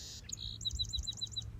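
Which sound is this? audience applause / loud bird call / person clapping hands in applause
loud bird call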